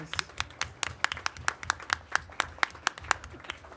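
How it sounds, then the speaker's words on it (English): A crowd claps for the Huntington High School football team, state AAA champions, at a school board meeting, with sharp, distinct hand claps in an irregular steady patter, fairly close and loud. "Let's give them a big round of applause."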